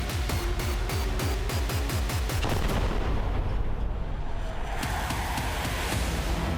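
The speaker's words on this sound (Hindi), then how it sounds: "आसमान से भीषण बमबारी।" Heavy aerial bombardment over Khan Younis in southern Gaza comes as a rapid series of loud repeated blasts or gunfire bursts, then gives way to a sustained rumbling roar.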